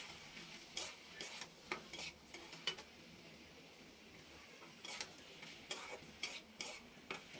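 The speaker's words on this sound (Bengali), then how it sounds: "একটু নেড়ে নিব।" Spatula stirring bitter gourd fry in a pan over a medium flame, giving irregular scraping clicks in short bursts with soft sizzle underneath, fairly quiet, no talking.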